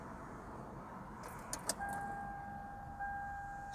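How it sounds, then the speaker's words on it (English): Key turned in the ignition of a 2004 Toyota Camry that fails to crank: brief metallic key jangles and clicks, then a thin steady electronic whine with no engine turning over, quiet and close. "starting the car again. It won't crank or start."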